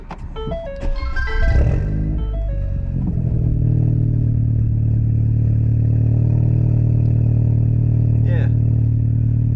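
A straight-piped Ford Fiesta ST180 starts cold, the starter chirping and cranking before the engine catches with a loud rising bark, then settles into a deep, booming, steady idle close by.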